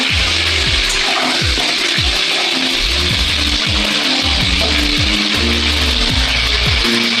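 Potatoes sizzle in hot oil tempered with cumin seeds, a steady, crackling hiss broken by occasional low knocks and clatter from the pan close by.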